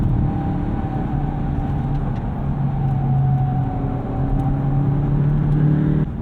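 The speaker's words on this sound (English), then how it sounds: "Turbo comes in, a little bit of lag, makes nice whooshy noises because he's got an intake" 2017 Honda Civic Si with a turbo engine and an aftermarket intake, accelerating from inside the cabin: a loud, continuous drone with a steady tone that rises slowly, plus a soft whoosh over the top and no talking.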